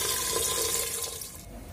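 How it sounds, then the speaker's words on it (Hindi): Water poured into a cooking pan over chopped onion, chili, coriander and tomato for a home-cooked dinner with shallow-fried fish: a steady, close splashing stream that thins out toward the end. "पानी ऐड करती हूँ"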